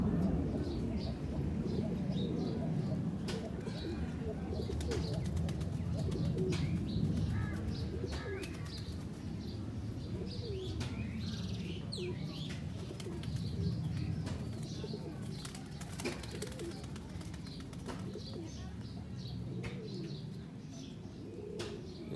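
Kaldam pigeons coo in low, soft repeated phrases close by, alongside faint chirps and occasional wing flutters, with a voice talking quietly in the background.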